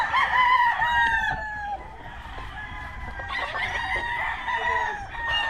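Chickens cluck and a rooster crows in a rural Philippine yard, several birds calling in overlapping bursts close by, with the crowing rising above the background; no one speaks.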